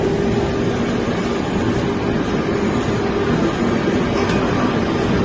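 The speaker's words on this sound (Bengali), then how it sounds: "সঠিক টাইমে ট্রেন ছেড়েছি" Sealdah–Puri Duronto Express pulling away from platform 11 at Sealdah, a continuous dense rumble of the moving train heard from on board, steady and fairly loud with no voices.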